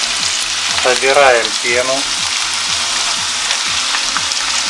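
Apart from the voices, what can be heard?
onion and carrot sautéing in oil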